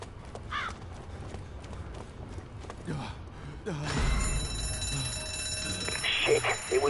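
A game alarm blares across a noisy stretch after a rigged trap is tripped, a steady ringing tone rising over ambient game clutter and footsteps in the second half.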